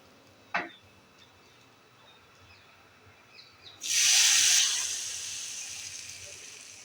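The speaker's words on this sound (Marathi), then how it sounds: "आता आपण ही फोडणी देऊन घेऊया" Hot spice tempering poured onto a chutney of snake gourd (padwal) seeds, a sudden loud hissing sizzle that bursts up close after a quiet start with a small knock, then fades to a softer crackle.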